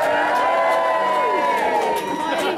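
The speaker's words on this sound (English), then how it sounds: "give me a cheer" A convention crowd at a cosplay costume contest cheers loudly and continuously, full of whoops and shouts from many voices, for a few seconds.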